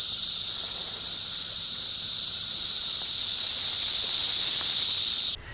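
Periodical cicadas of the 2024 emergence in Illinois form a loud, unbroken high-pitched droning chorus that holds steady for several seconds before cutting off abruptly at the end.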